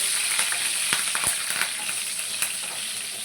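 Two bay leaves and green chillies fry in hot oil, giving a bright continuous hiss with a few sharp spatters and scrapes. Close and fairly loud, with no voices.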